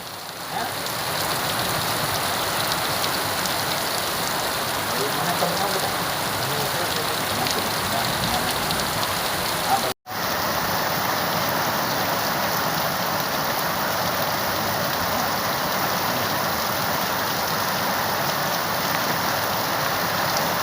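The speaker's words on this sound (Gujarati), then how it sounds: "તાલુકાના કોટિયા કડમોદર સહિતના ગ્રામ્ય વિસ્તારમાં ધોધમાર વરસાદ વરસ્યો હતો" Heavy monsoon rain with thunder pours in a constant, loud roar over the Kotiya area of Mahuva, Bhavnagar district, Gujarat, in the evening, broken by a split-second gap halfway through before the downpour continues.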